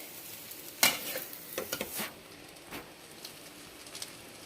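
Homemade noodles stirred in a pan, heard as faint, quiet scrapes and soft tossing sounds over a low sizzle, with one brighter clink early on, no voices.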